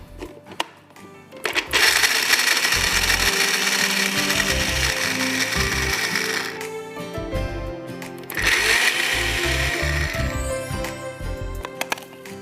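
Blanched, dried almonds being ground to powder in an electric grinder: a loud whirring motor roar runs in two long bursts separated by a brief pause, with clattering and short mechanical clicks at the start, between bursts and at the end.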